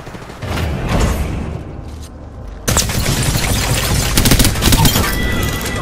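Gunfire in Apex Legends: rapid, loud automatic bursts and a dense fusillade of shots, briefly pausing then resuming even heavier, with a voice speaking over the fight.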